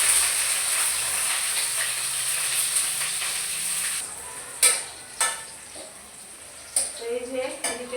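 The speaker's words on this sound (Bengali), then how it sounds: "এই যে এদিকে আমার পেঁয়াজ ভাজা হয়ে গেছে" Onions frying in oil in a pan on a stove, a steady bright sizzle that fades after a few seconds, followed by several sharp knocks and scrapes of stirring.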